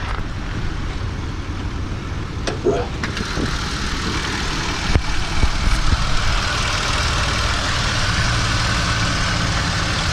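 A Pontiac Grand Prix GTP with headers and a supercharger idles steadily, a smooth continuous low engine hum running throughout with a few brief clicks and knocks nearby, and a voice speaking faintly in the background.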